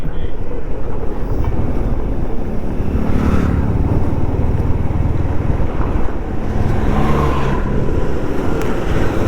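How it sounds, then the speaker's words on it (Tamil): A vehicle comes fast down the Kodaikanal hill road, its engine rumbling steadily and loud throughout, with a brief swell midway and no talk over it. "ஸ்பீடில் வண்டி வருது"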